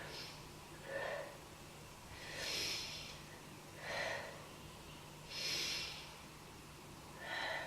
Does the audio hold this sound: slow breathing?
yes